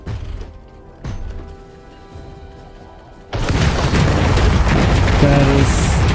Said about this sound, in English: It has artillery barrage.